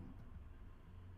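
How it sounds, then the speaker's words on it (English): Heavy traffic on a main road outside an office makes a steady low rumble of passing cars and engines, faint and distant, with no voices. "there's quite heavy traffic noise in the background"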